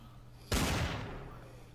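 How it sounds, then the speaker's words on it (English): A single loud gunshot in the video game Trouble in Terrorist Town bursts out after a quiet moment, then booms and decays into a lingering rumble. "Gunshots. Don't like gunshots."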